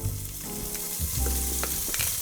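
Diced pancetta fries in olive oil in a pot, a close, lively sizzle with stirring scrapes and a few sharp clatters of a utensil against the pot.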